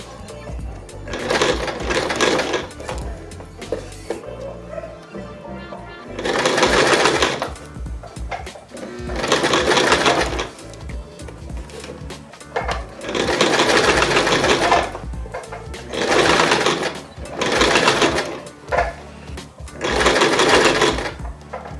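A sewing machine stitches a zipper close by, running in several loud, steady bursts of a few seconds each, with short pauses between runs as the fabric is repositioned.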